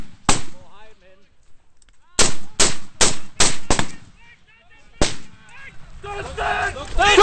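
Gunfire cracks out in a firefight between Taliban fighters and Danish soldiers: a single shot, then a rapid string of five or six loud close reports, another shot, with soldiers shouting in between.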